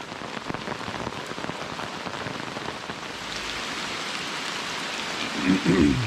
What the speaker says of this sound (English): emerging into a soaking rain